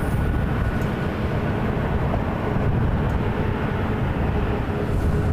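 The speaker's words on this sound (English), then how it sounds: "Morningstar Cessna Cargo Masters coming in for FedEx Express" Cessna cargo plane coming in to land at Toronto airport for FedEx Feeder, a steady loud engine rumble and broad roar with no breaks.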